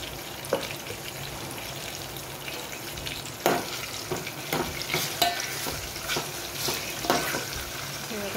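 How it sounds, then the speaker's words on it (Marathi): Tomatoes fry with spice paste in a pan for a homemade peanut curry, making a soft continuous sizzle with scattered utensil scrapes and clinks that grow busier toward the end, and no voices. "थोडेसे आपले टोमॅटो चांगल्या प्रकारे असे फ्राय झालेले आहेत"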